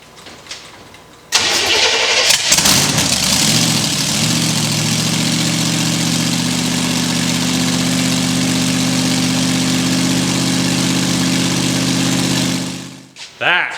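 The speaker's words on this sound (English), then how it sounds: "I guess I'm gonna see if this thing will start with the blower on it real quick" Blown monster truck engine with its supercharger fitted cranks and fires, then settles into a loud, steady high idle with a droning rumble close by, cutting off near the end.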